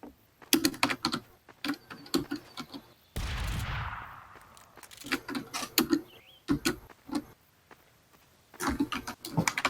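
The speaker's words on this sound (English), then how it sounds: "you got a loud keyboard." A loud computer keyboard clatters in quick bursts of close, sharp keystrokes during an online game session, broken by a short whooshing burst of noise, with pauses between flurries of typing.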